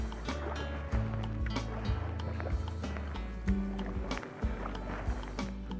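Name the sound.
kayak paddle forward stroke in water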